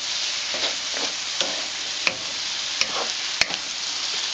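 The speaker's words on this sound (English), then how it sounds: "the tofu is cooking nicely. The lotus root is cooking with it quite well." Tofu and lotus root fry together in a vegan stir-fry, a dense even sizzle with soft scraping stirs and a few sharp clicks of a utensil against the pan, close and unaccompanied by speech.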